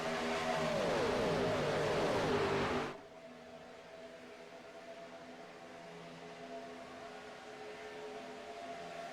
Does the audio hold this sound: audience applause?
no